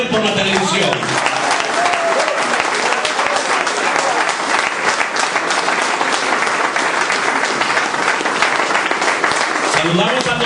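A church congregation claps loudly and steadily for several seconds, a dense wash of applause that fades out near the end.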